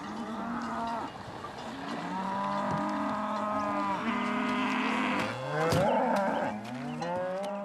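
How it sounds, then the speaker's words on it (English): Cattle grazing on the Bodenwiese mountain meadow moo repeatedly, long drawn-out lowing calls that overlap from several animals, some close and some farther off, with no talk. "Today, the Bodenwiese is one of the last meadows where cattle still graze."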